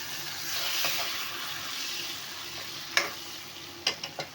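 A soft continuous sizzle as water is splashed into a frying pan of ginger-garlic paste, followed by a few sharp clicks and taps near the end, close and fairly quiet.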